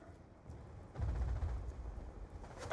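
Gunfire from a Scorpion submachine gun in Call of Duty Black Ops 2 zombies mode on PS3, a dense, continuous rattle of shots that swells after the first second and stays loud, with no speech.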